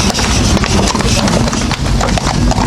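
Police horses on a Kyiv street clip-clop their hooves in a steady, loud, close run of strikes over dense street noise, the animals jittery after only a few days back on the roads following their winter rest.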